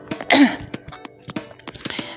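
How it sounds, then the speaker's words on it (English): A woman coughs and clears her throat in a few short, sharp bursts, with one strong cough near the start followed by smaller scattered coughs. "Even so, she coughs again."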